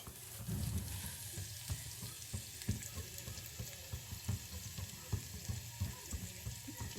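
Onions sizzle and fry in a pan for a tomato rasam tempering, a steady broadband hiss with scattered small pops and crackles that stays close and fairly quiet throughout, with no talking.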